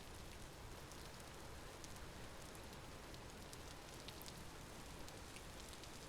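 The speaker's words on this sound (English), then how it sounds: "The rain is making me cold." In the Vintage Story game, rain falls as a steady wash of patter with no pauses, hissing evenly across surfaces throughout at a moderate, even level.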